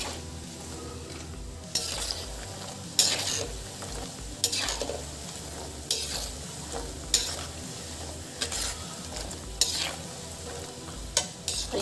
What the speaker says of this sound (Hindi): इसको बीच में चलाते रहना है, इसको हमें सुनहरा होने तक तलना है